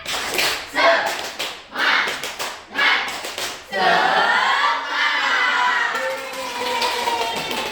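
A classroom of students performs a rhythmic spirit clap, several bursts of group clapping in a regular pattern, followed by a longer stretch of rapid clapping mixed with voices.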